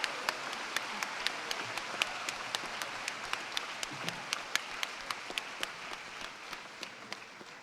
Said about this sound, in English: And a big round of applause for all our Bachelor of Arts in Early Childhood practice.